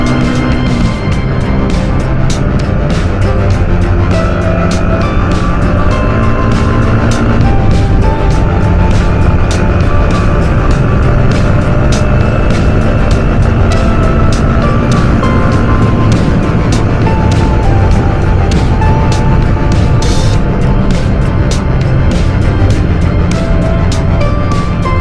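Loud, constant engine drone and road roar recorded on a moving motorcycle in traffic near Tanay, Rizal, steady for the whole stretch with dense low rumble and sharp ticking, no voices heard.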